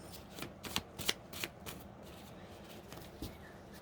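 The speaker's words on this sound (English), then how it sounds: "Let's do one more shuffle." Playing cards being shuffled, a series of crisp riffling bursts over a steady background hiss, close by.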